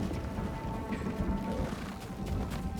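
Horses' hooves clip-clop in Ghost of Tsushima: Director's Cut, a quiet steady patter of hoofbeats carried under a low ambient rumble.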